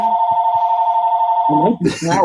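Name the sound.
phone ringing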